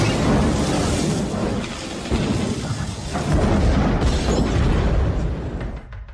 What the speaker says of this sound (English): climbs into his 1983 Eldorado, turns on the ignition, and is engulfed in a fireball